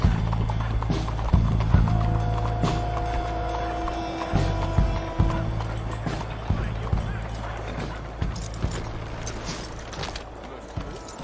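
Horse hooves clip-clop at a walking pace in the Western video game Red Dead Redemption II, close and rhythmic, with a brief whinny, creaking tack and background game ambience; a voice speaks over part of it.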